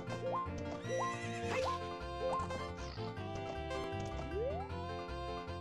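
Horse whinnies several times, with rising neighs, during riding in Zelda: Ocarina of Time on the N64, layered over steady game music and faint hoof clip-clops.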